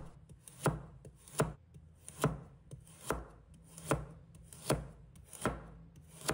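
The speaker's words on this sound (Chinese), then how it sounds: "再准备1小块胡萝卜，把它切成片" A knife slicing a small piece of carrot on a cutting board, eight crisp evenly spaced chops in a slow steady rhythm, close and clear with no talk.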